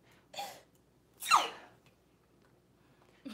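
A single sharp sneeze bursts out after a soft breathy intake, then quiet room noise follows.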